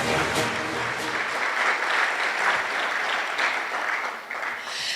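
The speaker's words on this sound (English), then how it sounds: "A round of applause for our nominees." Audience at a sports awards ceremony applauding the nominees with sustained, even clapping that carries at full strength before easing slightly near the end.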